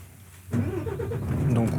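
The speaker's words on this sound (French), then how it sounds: "Donc on va pouvoir effectuer la mise en marche moteur." A truck engine turns over and catches after a short quiet lead-in, then settles into a loud, steady running rumble close by.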